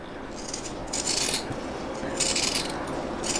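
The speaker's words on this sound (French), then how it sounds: "maintenant je vais enlever le surplus de tissu à l'aide de ciseaux cranteurs" Pinking shears trimming excess fabric beside a seam while sewing a crossbody bag, giving a few crisp snipping bursts with short pauses between, close and fairly quiet with no voices.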